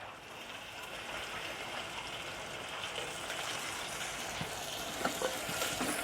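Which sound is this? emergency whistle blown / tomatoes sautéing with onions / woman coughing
tomatoes sautéing with onions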